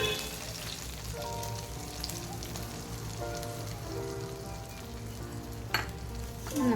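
Kerala-style chicken stew mixture sizzling and frying steadily in a pan, with soft stirring scrapes and a brief clatter near the end, no voices.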